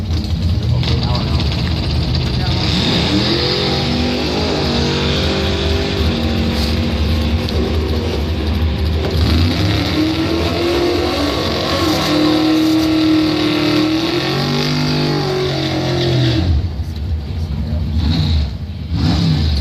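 Drag racing engines, including a 95 S10 and a Firebird, roar and rev continuously at close range, a loud sustained drone with shifting pitch, while an announcer's voice talks over the noise.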